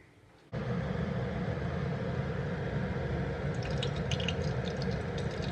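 Water pours steadily and continuously into a pot of cooked masoor dal for several seconds, a close, even splashing with faint drips toward the end and no talking.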